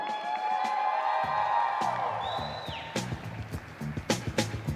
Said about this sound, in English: everybody, clap your hands, stomp your feet as we bring in the Reed Bridal Party